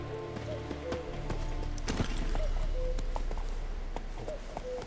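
Roach the horse walking in The Witcher 3: Wild Hunt, steady clip-clop hoofbeats over a game ambience with a low rumble, fairly close and moderately loud, no talking.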